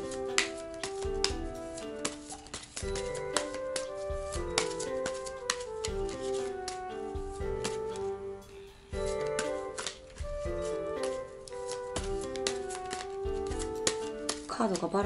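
Tarot cards being shuffled by hand during a monthly Leo horoscope reading, a steady run of quick papery riffles and taps close to the mic, continuing for the whole stretch with little pause.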